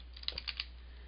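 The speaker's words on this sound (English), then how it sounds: "Start typing." A few quick keystrokes on a computer keyboard while entering text in a CentOS terminal, soft and close, clustered clicks over a steady low hum, no voices.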